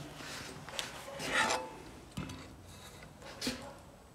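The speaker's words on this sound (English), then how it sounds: "Nice even sanding strokes." Slow, even rasping sanding strokes on a steel knife blade's bevel, three or four scraping passes with pauses between, fairly close and quiet.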